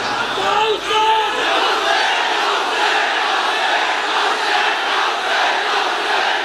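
A large crowd at an Islamic religious gathering shouts and chants together, a dense, steady wall of massed voices that stays loud throughout, with a few distinct calls rising near the start.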